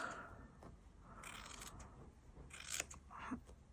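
Scissors snip through fabric while a circle is cut out, giving faint, close, irregular crisp cuts and rustles at low volume, with no talking.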